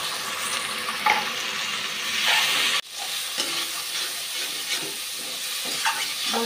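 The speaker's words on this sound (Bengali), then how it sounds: "মশলাটা ভাজা ভালো করে হয়ে গেছে," A spice paste fries in a pan with tomato and onion, a steady close sizzle punctuated by repeated stirring and scraping strokes, with a brief dip in the middle.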